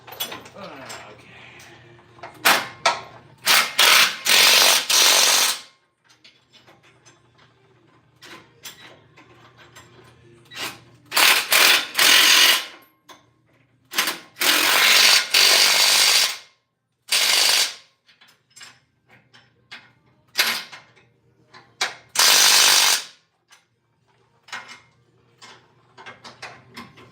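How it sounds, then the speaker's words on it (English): A ratchet wrench tightening parts while 40-inch tires are fitted on a Ford Excursion, loud close bursts of rapid clicking repeated in several spells with quiet gaps and occasional faint talk between. "Now let's throw the wrench around some more."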